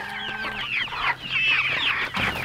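Chickens cluck and chatter close by in a short, busy burst of overlapping calls, with no talk.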